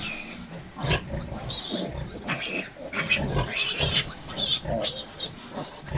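Piglets grunting and squealing in a pig pen while feeding from a sow, a busy cluster of close animal calls with some voice mixed in.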